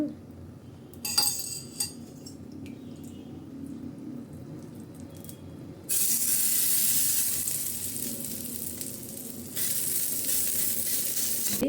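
Oil sizzles under tapioca kara adai on a pan: a soft hiss at first with a few clinks of a utensil, then a loud burst of sizzling as more oil hits, fading slightly before a second strong surge.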